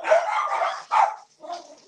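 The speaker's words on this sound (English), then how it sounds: "Sorry, dog's barking." A dog barks indoors in a few loud, close bursts, two long ones and then a shorter, fainter one, with no talking.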